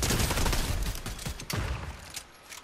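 Rapid gunfire from the video game Fortnite, a dense fusillade of overlapping shots that runs loud and continuous, thinning slightly toward the end.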